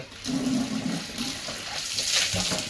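Water splashes and pours into a basin used for hand-washing clothes, with a steady sloshing flow close by and a few louder splashes, no voices.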